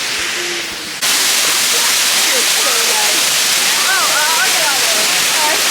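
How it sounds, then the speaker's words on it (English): Water rushes at Hickory Nut Falls as a steady, loud broadband roar of falling water close by, with faint chirping birdsong above it. "I don't know if you can hear me, but that's the water."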